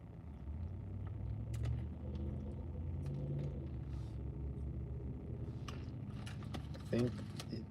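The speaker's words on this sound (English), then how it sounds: "I think the school bus is turning synced with that engine sound behind me." A school bus engine rumbles low and steady nearby as the bus approaches and drives past, with a few brief clicks and rattles and some speech mixed in over the traffic noise.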